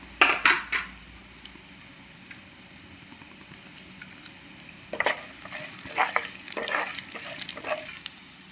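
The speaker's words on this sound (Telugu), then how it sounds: "పచ్చిశనగపప్పు జీలకర్ర ఆవాలు ఒకసారి తిప్పుదాం" Chana dal, cumin and mustard seeds frying in oil for tomato dal, with a soft, continuous sizzle under bursts of spoon stirring and scraping against the pan, first briefly at the start and again in a longer run near the end.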